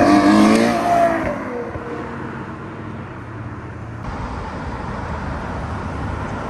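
A Land Rover support car on the Gumball 3000 rally drives past on London's Park Lane. Its engine is loud and close at first, then fades into a steady distant traffic rumble.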